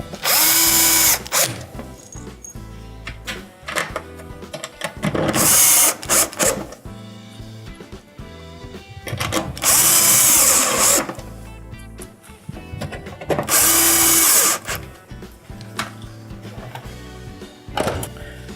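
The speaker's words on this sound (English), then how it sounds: "I'm going to install the screws in the user interface." A power drill drives screws into the user interface panel of a Whirlpool dishwasher, running in several loud, short whirring bursts separated by quiet pauses.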